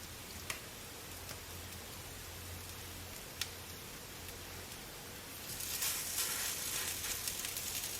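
Salmon patties fry in a cast-iron skillet with a steady, hissing sizzle and an occasional pop; the sizzle swells louder near the end.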